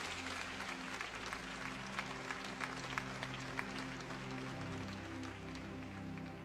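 A church congregation at a gospel service with Pasteur Mohammed Sanogo in Haiti claps steadily for Jesus. The dense, sustained applause has a faint crowd murmur under it.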